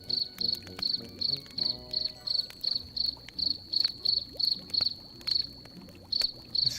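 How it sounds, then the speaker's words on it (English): Crickets chirping in a video game, The Book of Unwritten Tales: a steady run of regular, evenly spaced high trills repeating about twice a second over a quiet ambient background. "Crickets, crickets."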